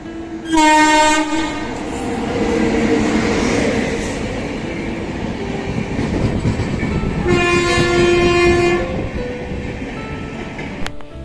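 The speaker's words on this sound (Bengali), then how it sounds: "আর এই দেখো পাশে কিন্তু আরও একটা ট্রেন চলে এসছে" A train pulls alongside a station platform with a loud horn blast at the start and another later, under a steady rumble of rolling wheels and rattling carriages, close and continuous.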